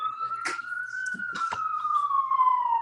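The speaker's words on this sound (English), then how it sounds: "There's a big siren going by." A siren goes by outside, one steady wailing tone drifting slowly down in pitch at moderate loudness, with a few brief bumps and knocks indoors over it.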